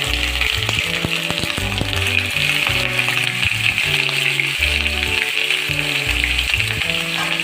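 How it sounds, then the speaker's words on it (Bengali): Potatoes frying in mustard oil sizzle loudly and steadily in a pan for chicken curry, with occasional light clinks and stirring beneath a constant bright crackle. "বন্ধুরা, পরিমাণ মতো সর্ষের তেল দিয়ে আমরা আলুগুলোকে ছেড়ে দিলাম।"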